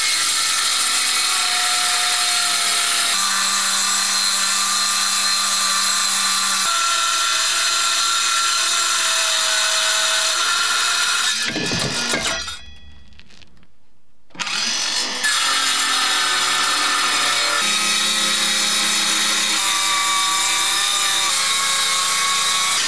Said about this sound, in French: J'ai pris la machine, la scie circulaire.